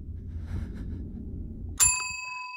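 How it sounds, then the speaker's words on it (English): A bell rings once in the video game Suite 776, a sudden bright metallic ding with lingering overtones that rises out of a low rumbling ambient drone and rings on to the end. "Bell's been rung a fourth time."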